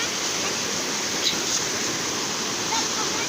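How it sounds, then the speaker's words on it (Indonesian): A shallow river flows with a continuous, even rushing wash of water, close and fairly loud, holding steady throughout. "Ini sungainya ini ya."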